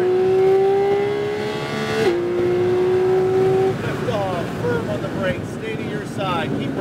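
A racing sim game car engine accelerates, its steady tone climbing with a gear-shift break, loud and continuous, then fading into tire and road noise with a gliding whine.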